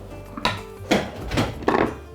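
A few hard clunks and knocks as a small pot is set down and shifted on a stove flame, with brief quiet gaps between.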